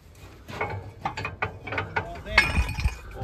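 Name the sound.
ratchet wrench removing bolts from potato planter shanks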